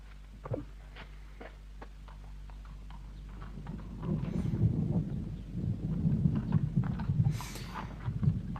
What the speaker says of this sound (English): Can I take the mare?